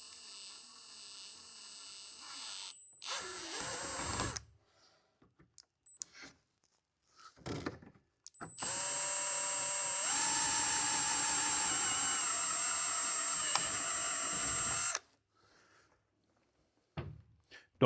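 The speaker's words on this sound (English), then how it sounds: "You're just drilling through plastic." An electric drill with a 1/4-inch bit whines at high speed through plastic in two bursts, a short one and then a long steady run, separated by quiet handling noises.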